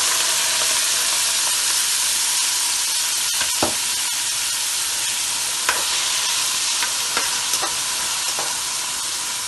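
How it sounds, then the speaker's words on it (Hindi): Frozen peas fry and sizzle in a hot pan with oil for matar pulao, a steady hiss with occasional stirring scrapes and pops, close and continuous. "ये फ्रीज की हुई मटर थी, इसलिए हम इसको थोड़ा सा भून के सॉफ्ट कर लेंगे"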